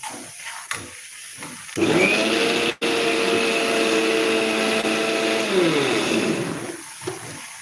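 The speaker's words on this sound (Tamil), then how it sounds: "தேங்காய் விழுது அரைச்சிக்கிட்டு இருக்கேன் இன்னும் கொஞ்சம் ஃபைன் பேஸ்ட்டாக அரைச்சிக்கலாம்" Mixer grinder whirring as it grinds coconut into a fine paste, starting abruptly after quiet, running steadily and loud with a brief cut near the three-second mark, then winding down and stopping.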